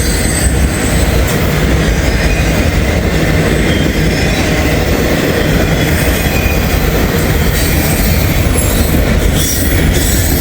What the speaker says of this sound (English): These auto rack trains are usually monsters.